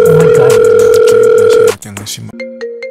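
A phone call being placed, with a steady tone and ringback pulses heard under a loud, busy background of voices, then a cleaner tone after the noise drops away. Someone speaks briefly.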